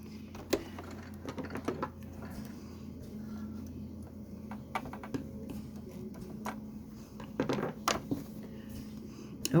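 Sewing machine back stitching during machine embroidery, a quiet rapid mechanical whir with sharp clicks and taps.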